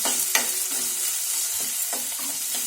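Spices for an upma tempering sputter in hot oil, a continuous hissing sizzle with a few louder crackles and a spoon stirring the pan, heard up close.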